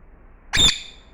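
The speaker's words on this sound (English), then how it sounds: "Kleng, Kleng is Indian parrot." A single short, loud, harsh squawk from an Indian parrot, close by, against an otherwise quiet background.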